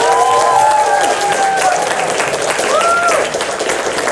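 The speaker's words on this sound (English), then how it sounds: "Let's give them a round of applause." Audience applause for the judges at a high school debate tournament award ceremony, sustained crowd clapping with some cheering and voices over it, loud and continuous.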